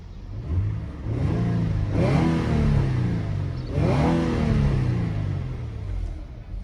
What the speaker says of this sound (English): Let me rev it up for you guys here.